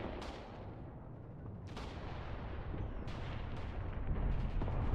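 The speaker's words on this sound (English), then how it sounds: "This tank platoon is taking artillery fire" Artillery fire in the WW2 video game Mius Front: a series of booming impacts and sharp blasts, about four distinct strikes over a rumbling low-end background, fairly distant and steady.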